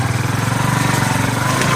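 A motorbike engine runs steadily on a rough forest trail, a continuous close mid-pitched drone with a low pulsing rhythm and no break.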